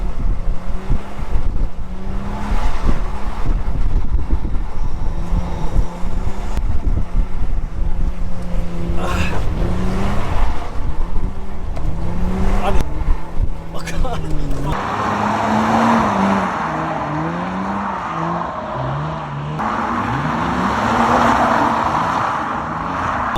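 A Lexus IS200 street drifting revs hard, the engine note repeatedly climbing and falling through gear changes with tyre and wind noise, close and loud from inside the car, with a voice speaking over it.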